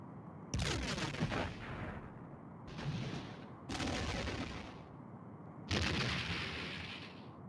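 Starship weapons fire in the Star Trek: The Next Generation – A Final Unity game, four loud blasts in succession, each a sharp broadband burst that decays into rumbling noise, with no talk over them.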